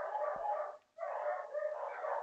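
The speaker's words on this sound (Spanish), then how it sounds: "Malditas perras, ya empezaron a ladrar." Two dogs barking hysterically nearby, a continuous dense run of loud barks broken by one brief pause, with no talking over it.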